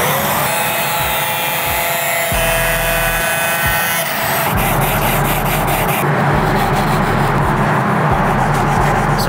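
A power tool grinds and whines continuously against a cured carbon fibre part at close range, trimming it, with repeated knocks and shifts in pitch as the cut changes.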